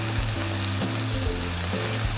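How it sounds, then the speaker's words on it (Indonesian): Green beans being stir-fried with tomato in a pan give a steady, loud, close sizzle with faint stirring scrapes, continuous and without talk. "Sekarang kita masukkan buncisnya ya."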